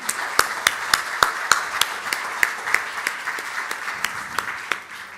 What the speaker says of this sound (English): let's give a warm round of applause to Manvi.